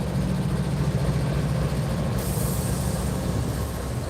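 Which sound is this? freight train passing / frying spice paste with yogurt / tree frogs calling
freight train passing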